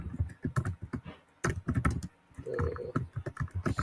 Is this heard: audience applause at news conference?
no